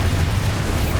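A Bombarda spell explosion in the video game Hogwarts Legacy: one loud, dense, booming blast that fills the whole short moment at close range, with no voices.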